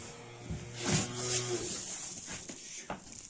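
Calves at feeding time over pellet feed give one drawn-out, fairly close moo that rises and fades, followed by quieter shuffling in the background.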